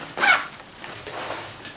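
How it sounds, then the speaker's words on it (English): A backpack zipper is pulled shut in one quick, quiet zip, followed by faint background hiss. "So go ahead and zipper that bad boy back up."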